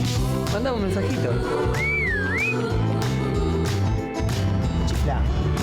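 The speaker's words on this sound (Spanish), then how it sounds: "Chifla." A person whistles a short, sliding, wavering melody over a busy musical background in an Argentine bank advertisement, the whistle rising and falling once for about a second.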